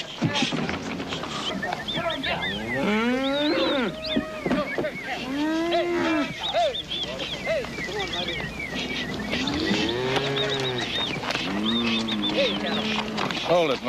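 Cattle lowing in a police crime drama scene, with several drawn-out moos rising and falling over roughly fourteen seconds, mixed in with people talking close by.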